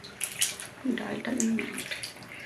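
Boiled soybean chunks are rinsed in cold water in a kitchen, with soft splashing and sloshing of water throughout, close and moderately quiet.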